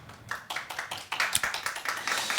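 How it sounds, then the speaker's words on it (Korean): Sparse, modest clapping from a small audience at a church worship academy information session, a thin and fairly quiet run of individual claps with no talk. "박수 소리가 생각보다는 적지만"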